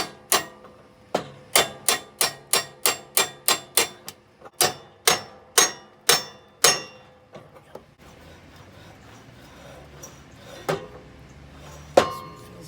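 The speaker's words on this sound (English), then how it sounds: "Let the weight of the hammer do the work for you." Hammer strikes on the spindle of a Cub Cadet XT1 mower deck, a rapid run of about a dozen sharp metallic blows, close and loud, then a few scattered knocks and scraping.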